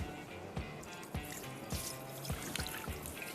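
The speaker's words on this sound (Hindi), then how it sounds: "चावल का पानी निकाल कर चावल इसमें डाल दूंगी" Drained rice is tipped into a pot for cumin butter rice, making a faint, grainy trickling pour broken by soft, irregular knocks and patters, with no talking.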